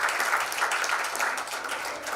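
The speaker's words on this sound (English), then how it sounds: "a big round of applause for all of you" An audience applauds hackathon participants at an AI event, a steady, moderately loud wash of many hands clapping that holds throughout with no voices.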